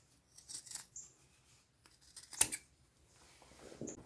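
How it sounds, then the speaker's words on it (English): Scissors snipping stitches on corduroy pants, a few faint short cuts with one sharper snip in the middle, in a quiet room. "I cut right between those two stitches that I made."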